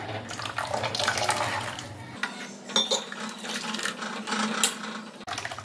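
Water poured into a pot of tomato sambar in a home kitchen, a close splashing stream with light clinks of the pot and utensils for several seconds.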